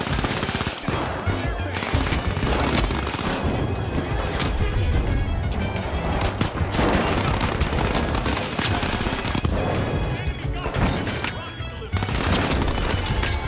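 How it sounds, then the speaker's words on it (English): A sentry turret in the video game The Finals firing, rapid continuous bursts of automatic gunfire over loud game effects and clatter, with players talking in between. "Dude, the sentry turret is ridiculous."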